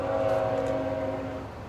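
A train in Farming Simulator 22 sounds a sustained horn over a low rolling rumble as it passes nearby, the tone fading slightly toward the end.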